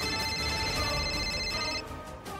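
A telephone rings in an indoor room in a Punjabi TV drama, its steady tone continuous and loud for about two seconds before cutting off, with no one speaking.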